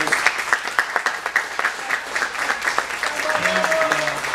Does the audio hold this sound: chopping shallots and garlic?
no